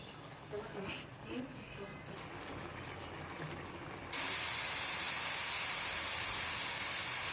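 Water poured onto raw green banana frying in spice paste bursts into a sudden loud, continuous hiss, following a quieter stretch with talk.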